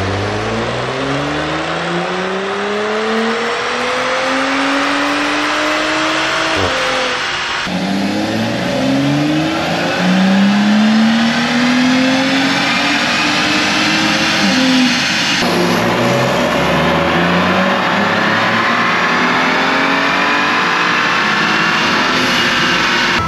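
Audi B9 S4 fitted with an Integrated Engineering air intake and turbo inlet, revving hard on an all-wheel-drive Mustang dyno: three loud, sustained pulls that each climb steadily in pitch, with brief resets between them and no talk.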